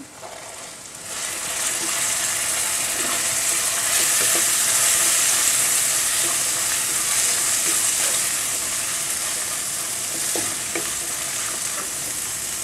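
Ginger garlic paste and gram flour fry in a pan with a loud, continuous sizzle and faint stirring scrapes, close by and with no talk.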